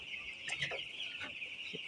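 Broiler chickens on a rooftop farm clucking in a few short, soft bursts over a constant high hum of background noise.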